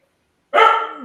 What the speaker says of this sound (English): sorry for the dog in the back.